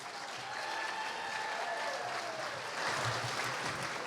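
Applause from a banquet crowd at a St. Louis Sports Hall of Fame induction, fairly quiet and steady, with a faint tonal hum running beneath the clapping and a slight swell near the end.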